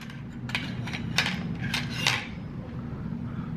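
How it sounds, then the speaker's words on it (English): Dosa cut through the center on a plate, heard as a handful of light metallic scrapes and clinks of cutlery against the dish over a low steady hum. "So let's cut the dosa from the center"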